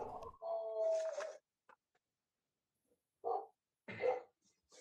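A dog barks in the background during a UK parliamentary committee session on space, a few short muffled yaps separated by silence.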